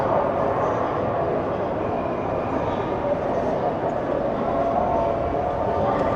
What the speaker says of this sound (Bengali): আমরা এখন চায়নার গংসুনা ট্রেন স্টেশনে এসেছি।